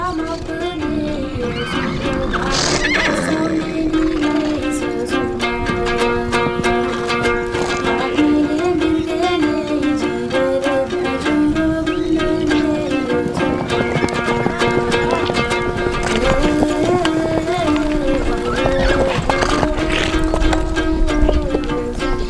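Horses of Mongolian nomadic herders, with hooves clip-clopping and occasional neighs under continuous loud music and narration.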